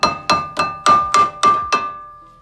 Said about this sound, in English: I'm gonna get a hammer and you're gonna hit the outside of the rotor to break free.